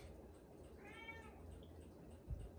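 A cat gives one faint, brief meow amid quiet room noise, followed by a soft thump near the end.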